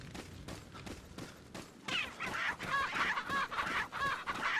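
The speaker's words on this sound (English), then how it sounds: "Mr. Chicken is not happy by my presence." A chicken in the Resident Evil 4 village clucks agitatedly at close range, a run of sharp repeated squawks following softer rhythmic thumps, with no talk over it.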